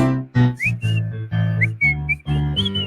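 A person whistles a tune from Life of Brian in a few short, breathy phrases, close and fairly loud, with voiced humming-like tones between the whistled notes.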